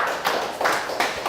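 A Sunday church congregation claps together in a steady rhythm, rapid and fairly loud, with no speech over it.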